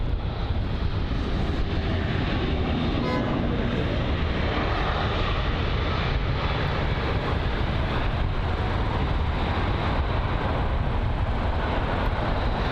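Iberia Airbus A320neo at London Heathrow: a steady, loud, broadband jet engine roar that continues unbroken throughout, with no voices.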